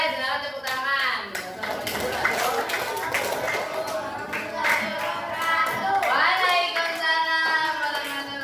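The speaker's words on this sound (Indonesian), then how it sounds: "Boleh, silakan tepuk tangan." Students in an Islamic religious-education class clap their hands in a lively, uneven patter, with children's voices and chatter mixing over the clapping throughout.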